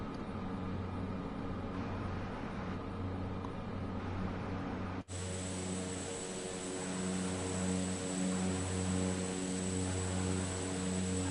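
Steady droning engine of a Cessna 208 single-engine turboprop in flight, from a flight simulator, with a constant hum and tonal whine, briefly cut at one point, then continuing evenly and fairly loud throughout.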